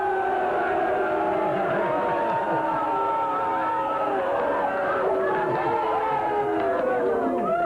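Studio audience on a confrontational TV talk show reacts to a media critic guest in the hot seat, a steady dense crowd murmur and chatter with scattered shouts running throughout.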